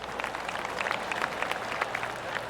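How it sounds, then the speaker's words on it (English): A golf gallery in PGA Tour 2K25 at the WM Phoenix Open breaks into a soft, scattered round of polite applause, many light claps patter evenly throughout, steady and moderately distant. "Oh, golf clap."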